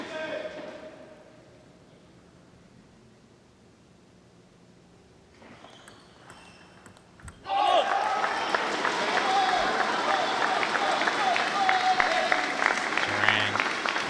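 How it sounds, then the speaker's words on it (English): A rowdy crowd at a pickleball match breaks into loud, sustained applause and cheering after a quieter stretch of low murmur, with a few scattered claps beforehand. "Crocs crowd are getting rowdy, trying to get Duran back into this."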